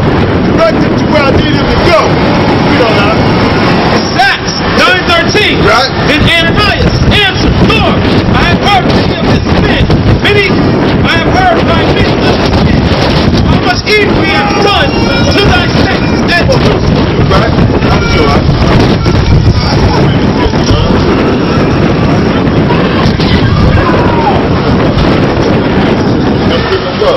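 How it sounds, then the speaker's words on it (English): Fierce wind blows hard outdoors, roaring steadily and loudly across the microphone for the whole stretch, with buffeting gusts and a voice talking faintly underneath. "The wind is fierce out here"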